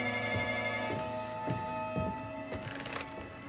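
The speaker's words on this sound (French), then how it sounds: "Téléphone, va décrocher." A telephone rings repeatedly in steady bursts within a television drama scene, moderately loud over a continuous background hum.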